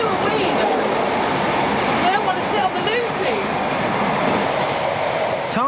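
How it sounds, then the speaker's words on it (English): Interior of a moving passenger train, a steady rumbling ride noise with rattles and creaks throughout, while people talk over it. "so we're on a later train"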